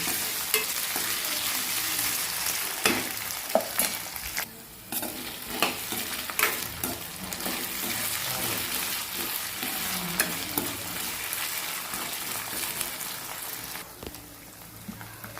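Potatoes for sabudana khichdi sizzle steadily in a hot pan while a spoon stirs them, scraping in irregular bursts over continuous frying hiss throughout.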